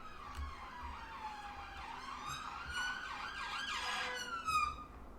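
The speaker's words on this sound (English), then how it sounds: "Police cars have just zoomed down the road." Police car sirens wail down a road, a rising and falling electronic tone with rapid yelping sweeps, moderately distant and growing slightly louder as the cars pass, with no talking.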